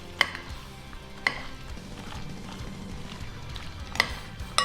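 Spaghetti carbonara being tossed and mixed in a pan, a soft steady scraping and stirring with a few sharp clinks of utensil on metal spaced through it, close and moderately quiet with no talk.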